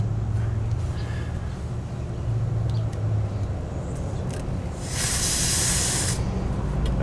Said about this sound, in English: here we'll be testing out the Duracell Powerpack 450 air compressor. Turn the unit on.